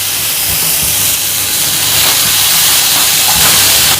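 Black chickpeas tossed into a hot tempering in a pan, giving a strong, continuous hissing sizzle heard close and loud for the whole stretch without any voices.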